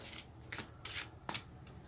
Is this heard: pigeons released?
no